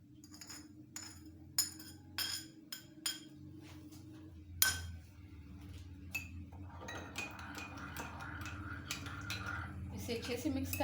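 A spoon clinks sharply against a bowl in a quick series of bright taps as yeast and sugar are stirred into lukewarm milk, followed by softer rattling and scraping under a steady background hum.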